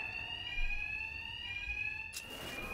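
A steady electronic alarm rings in the video game Batman Arkham Knight, a continuous high tonal wail with harmonics, held evenly under low background rumble before cutting off with a brief hissy burst near the end.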